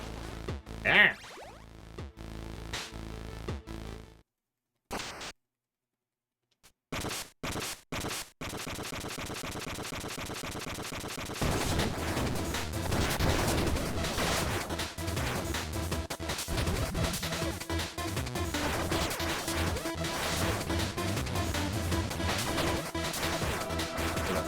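Rapid gunfire and crashing hits from the retro action game Cyber Shadow, loud and dense, with a brief silent gap early on, then a sustained barrage of shots and impacts running continuously to the end.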